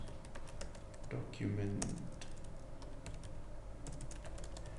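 Typing notes on a computer keyboard: a close, steady run of light key clicks in an uneven rhythm throughout, with a brief thump and a short spoken word partway through.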